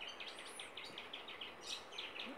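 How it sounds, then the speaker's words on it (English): Finches in trees chirp in quick, high repeated notes, faint and somewhat distant over a soft outdoor background hiss. "Oh yeah, all the finches in the trees."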